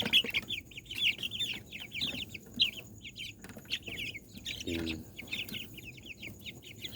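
Many young chicks and hens cluck and peep in a steady chatter nearby, with a brief low voice murmuring once in the background.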